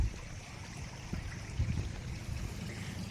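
Water flowing continuously through a field canal, a faint, low, gurgling trickle that stays steady throughout with no speech over it.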